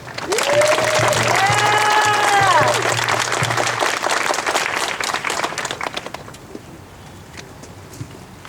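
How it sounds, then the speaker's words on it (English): Dense, loud outdoor applause at a street renaming ceremony for Vicha Ratanapakdee Way greets Supervisor Stefani, with a few tonal whoops mixed in, then thins to scattered claps and quiet ambience over the last couple of seconds. "please give a big round of applause to Supervisor Stefani"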